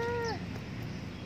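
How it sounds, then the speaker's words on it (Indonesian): A single short cat meow sounds close by outdoors near a stadium on a morning jog, falling in pitch at its end, then trailing off into steady open-air background noise. "Pupus, nah ini ada kucing lagi"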